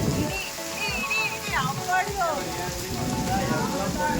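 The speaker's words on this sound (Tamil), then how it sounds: "பாருங்களேன் எந்த மாதிரி மழை பெய்யுது" Heavy rain pours down steadily outdoors during a barbecue chicken cookout, a dense, loud hiss throughout, with people talking over it.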